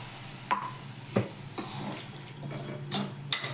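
Water pours and splashes into a cooking pan of sautéed greens, with a few sharp clinks of utensils against metal at irregular intervals, fairly close.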